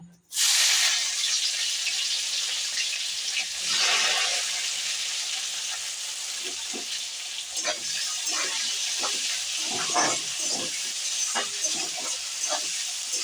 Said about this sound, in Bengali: পটল ভাজার তেলটা ছিল, এই তেলের মধ্যে এবার আমি পেঁয়াজটা দিয়ে দেবো।